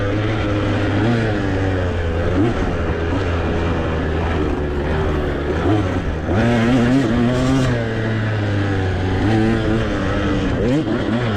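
A two-stroke dirt bike races off-road on a Texas ranch course, its engine loud and close throughout, rising and falling as the throttle opens and closes, with someone talking over it.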